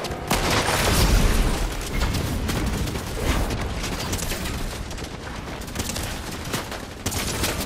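Dense, sustained gunfire hammers at the player in Fortnite, with rapid overlapping shots and booms, loud and continuous for several seconds, no voices.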